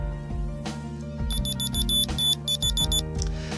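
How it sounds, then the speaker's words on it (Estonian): A small key finder clipped to keys beeps in rapid high pulsed bursts, loud and close, two groups of repeating chirps over a low background hum with no talking. "Seade hakkab piiksuma ja LED-tuluke vilkuma"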